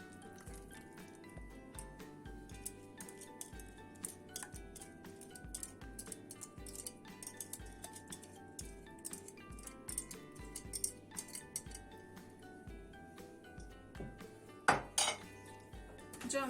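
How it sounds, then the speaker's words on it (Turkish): Whisked yogurt, flour and egg sauce being added to a pot of yayla soup, with close metallic clinks of utensils against the pot and soft wet sounds, steady and moderately quiet throughout. "Yarımlık kavanoz yoğurt, bir kaşık un ve bir yumurtayı çırptım ve üzerine ekliyorum."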